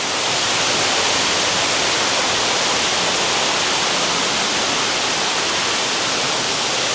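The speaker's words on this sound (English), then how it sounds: "Waterfalls." Waterfalls spill into the lagoon cave pool at the Hyatt Regency Grand Cypress resort in Orlando, making a constant, even roar of rushing water with no breaks and no voices.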